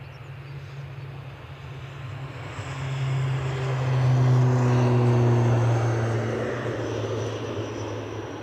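An Aer Lingus ATR turboprop departs Edinburgh Airport, a steady propeller drone with a low tonal hum that swells in the middle and slowly fades, heard alone with no talk.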